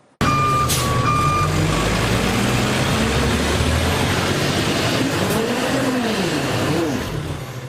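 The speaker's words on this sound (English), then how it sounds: "This city garbage truck struggled to get up a back alley" A city garbage truck strains in a snowy back alley in Edmonton, its engine roaring loudly and steadily close by with reversing beeps sounding at first and the engine pitch rising and falling as it works up the hill.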